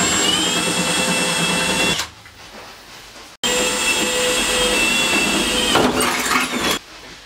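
Power rivet tool setting rivets on a Ford Transit A-frame: two loud, steady whirring runs of about two seconds and three seconds, each ending abruptly, with a short quiet gap between them and no talking.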